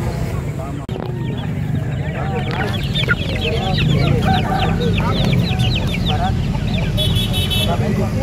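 Young Bangkok-breed chicks crowd a busy chicken market in Makassar, many peeping and clucking continuously near and far, with people talking and traffic noise throughout.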